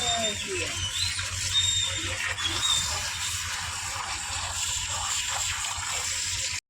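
Water pours from a hose at a construction site where an old house is being torn down for a new one. It makes a continuous gushing wash with occasional thin squeaks, mid-distance, over steady site noise.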